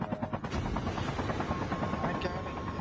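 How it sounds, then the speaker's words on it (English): A dense, continuous helicopter rotor roar from the Jackal video game fills the whole stretch, loud and close with a steady throbbing texture and no clear speech on top. "I have the chopper sound in my freaking ear right now"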